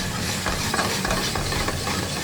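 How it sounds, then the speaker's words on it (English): Split cherry and heirloom tomatoes sautéing in a pan, giving a dense, continuous sizzle and hiss with soft stirring movements, close up and free of talk. "we'll take and saute those up a little bit"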